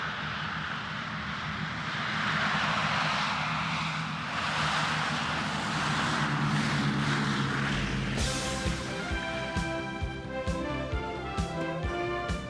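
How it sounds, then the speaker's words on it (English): Several B-17 bomber aircraft fly overhead at an air show, a loud droning roar of piston propeller engines that swells and then turns to a harsher, buzzing rumble as they pass close by, heard alone without talk. "when was the last time you saw 5 B-17s flying at the same time?"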